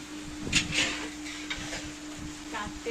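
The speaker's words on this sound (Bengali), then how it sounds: "দুজন দুই দিক থেকে খুন্তি করছে" Meat cooking in a pot is stirred from two sides by two people with spatulas: scraping, clinking metal strokes and a light sizzle, irregular and close by, with a steady hum underneath.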